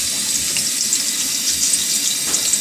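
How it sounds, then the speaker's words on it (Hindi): Chopped onions sizzling as they hit hot oil in a pan for aloo pulao, a dense steady hiss and crackle, loud and close, with no talking. "ऑयल गर्म हो गया है, प्याज डाल देते हैं।"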